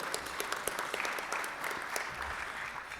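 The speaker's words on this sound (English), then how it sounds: "So give him a round of applause to Bill." Moderately quiet applause from a small Rotary club meeting audience, scattered individual claps audible within a loose, uneven patter that continues for a few seconds.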